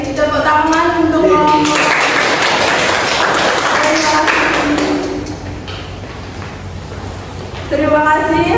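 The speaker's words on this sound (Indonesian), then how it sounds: "tepuk tangan untuk" Classroom applause after a student group presentation, a burst of many hands clapping in the middle, bracketed by a teacher speaking before and after.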